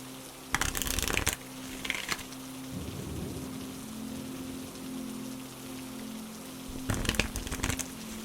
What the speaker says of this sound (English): Next, we are going to pull some Moon Oracle cards.